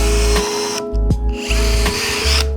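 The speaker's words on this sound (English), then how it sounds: "I'm gonna drill an 1/8 inch hole in line with the blade" An electric drill bores an 1/8 inch hole through a steel broadhead, its loud, close whine cutting out briefly in the middle and then spinning back up, with no voices.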